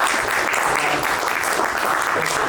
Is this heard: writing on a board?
no